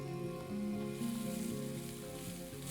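Onions and tomatoes sautéing in oil in a pan for a Chettinad vegetable dish, giving a steady, moderately loud sizzle and crackle with faint utensil scrapes. The frying carries on without a break and no one talks.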